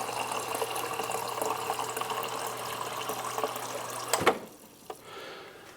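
Water streams steadily from the dispenser of a Samsung Bespoke refrigerator just after a filter replacement, a continuous close pour that cuts off abruptly, followed by a few faint drips and clicks.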